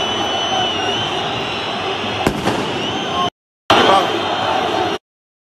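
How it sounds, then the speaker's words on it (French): A large firecracker goes off in a football stadium during an Olympique Lyonnais versus Olympique de Marseille match, one sharp bang cutting through a constant loud crowd roar, with the sound briefly dropping out after it. "pétard lancé vers Neymar, hein, et c'est pas des petits pétards"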